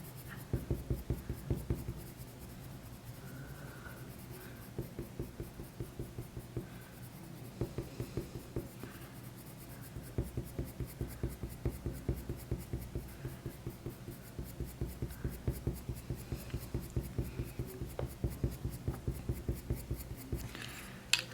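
Polychromos coloured pencil in burnt sienna pressed hard on paper while drawing a bay horse, a steady run of close, soft scratchy strokes in quick rhythmic bursts, with no talk.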